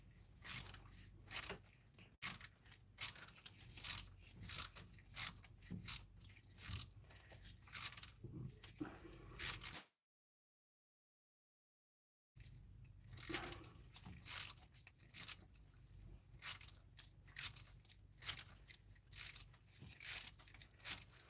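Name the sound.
ratchet with 12-point socket turning thread-chasing tap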